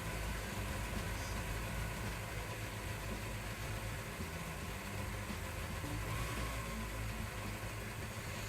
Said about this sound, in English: We chose to start the left engine first, and this is where we're realizing something wasn't quite right.